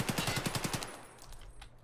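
Test gunfire in the video game Escape from Tarkov: a rapid burst of about eight sharp automatic shots, evenly spaced and loud, followed by a fading echo and quiet tail.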